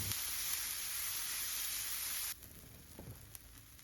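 Mashed salmon and potato mixture for cutlets sizzles softly in a pan over low heat, a faint steady frying hiss with a few light stirring scrapes near the end.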